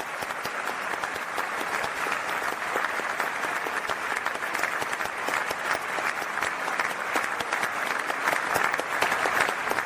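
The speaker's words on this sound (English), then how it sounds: "And I think that deserves another round of applause." A large graduation audience in caps and gowns applauds in a steady, dense wash of clapping that holds evenly throughout, with no voices rising above it.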